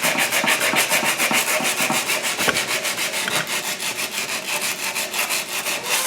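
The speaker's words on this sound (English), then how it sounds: "Try to scrub out some of those other really troublesome spots" Steady back-and-forth scrubbing on a rusty sword blade with oil spread over the metal, a loud rhythmic rasping of even strokes repeating quickly and close up, with no voices.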